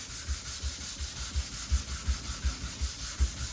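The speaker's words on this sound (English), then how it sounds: "So 12-inch radius sanding block, and what did we say? 400 grit." A Fender Custom Shop guitar neck is sanded with a 12-inch radius block and 400-grit paper, making steady rhythmic back-and-forth rubbing strokes, close and even, with no speech.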